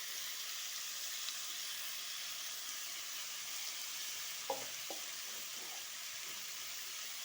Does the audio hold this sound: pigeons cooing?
no